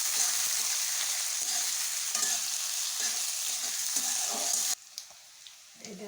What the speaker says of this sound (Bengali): দিয়ে দেবো পেঁয়াজ কুচি, রসুন, আদা, কাঁচা লঙ্কা, এগুলোটাই দিয়ে দিচ্ছি। এখন ভেজে দিচ্ছি।